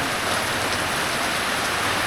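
Steady rain falls continuously at a market in a rural border area, a dense, even hiss with no breaks and no voices over it.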